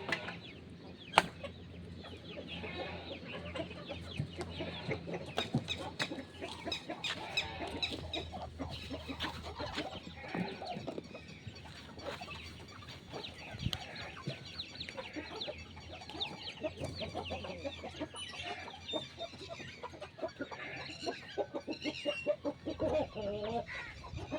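Chickens and a yellow rooster cluck steadily in a busy farmyard, with dense overlapping calls forming an unbroken mid-distance chorus and no clear speech.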